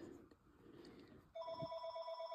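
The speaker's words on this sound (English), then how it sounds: "Oh, there goes the phone." A telephone rings with a steady electronic trill, starting abruptly after quiet talk and sounding moderately close in an indoor room.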